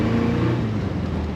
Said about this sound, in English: This car runs smooth, accelerates nicely, has a great little exhaust note out the back.